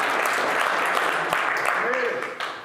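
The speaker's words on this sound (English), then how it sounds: "Give yourselves a round of applause." Audience applause after a Friday greeting, a dense steady wash of clapping at close range that holds level and then thins out toward the end.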